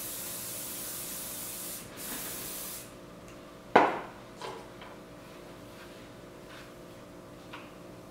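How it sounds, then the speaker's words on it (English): Sebastian Shaper hairspray is spritzed on hair in a long, soft hiss for the first few seconds, then a brief sharper spray or rustle, with quiet handling noises after. "So I'm going to take my Sebastian shapers, and I'm just going to lightly spritz the hair."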